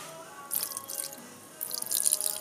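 Water is splashed into a jug blender holding leftover tofu, producing small close dripping and trickling sounds in two short bursts.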